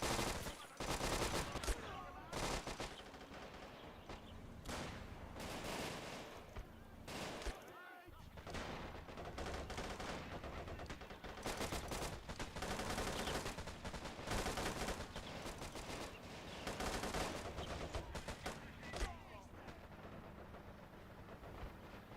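Sustained exchange of gunfire in the Robz Mod strategy game, rapid overlapping shots and distant booms forming a constant battle din, fairly quiet overall beneath a commentator's voice.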